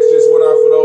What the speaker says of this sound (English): Y'all going to hear ringing real quick because I am right now opening up the lines for